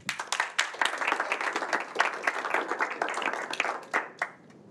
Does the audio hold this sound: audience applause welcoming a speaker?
yes